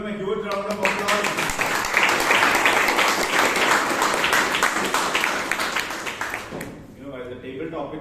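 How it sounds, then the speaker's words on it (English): Audience at a Toastmasters club meeting breaks into loud, dense applause that swells and holds for several seconds before fading, with a voice speaking just before and after. "Please give him a huge round of applause"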